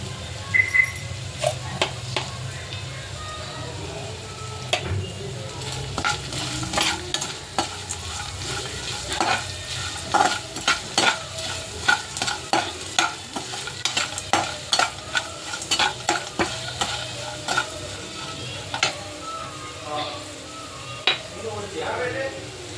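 Food fries in a pan seasoned with turmeric powder and salt while a spoon stirs it, a steady sizzle broken by repeated scraping, clinking strokes against the pan, with occasional talk in the background.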